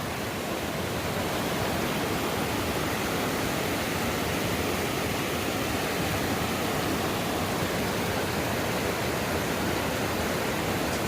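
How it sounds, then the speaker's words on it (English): Small waterfall on a mountain creek pours steadily, a dense, loud, unbroken rushing wash that fills the whole clip with no voices. "It's a cool little waterfall here."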